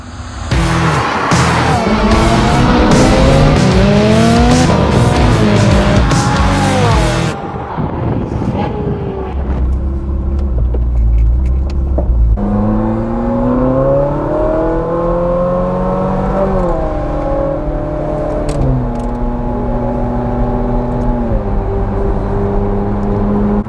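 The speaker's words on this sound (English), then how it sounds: "we'll be driving up in convoy to Podium Place and you'll join us en route." Ferrari 355 and 360 Spider sports cars driving in convoy on country B roads, loud engines rising and falling through gear changes with strong wind buffeting, first one dense roar and then smoother revving climbs.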